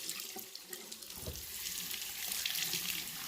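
Tap water runs steadily through a stamp chamois held under a faucet, a close, continuous splashing rush with no one talking.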